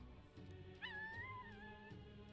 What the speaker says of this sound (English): Is that a puppy?